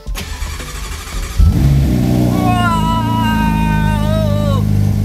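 A sports car engine cranks and fires up with a loud burst, then settles into a deep rumbling idle and revs up smoothly, close by.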